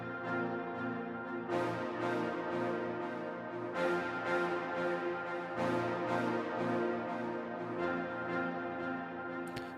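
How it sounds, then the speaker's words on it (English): Orchestral brass from the Vienna Smart Orchestra library, treated with synchronized delay and plate reverb, plays a rhythmic series of repeated accented stabs with echoing tails, steady and fairly loud throughout, with no voices. "Let me just bring that in here with a synchronized delay and the plate reverb on top of it."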